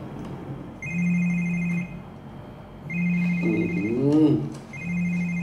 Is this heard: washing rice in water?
no